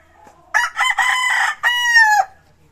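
Loud, close rooster crowing, one long crow broken into several strained segments, among quality game fowl at a large poultry farm.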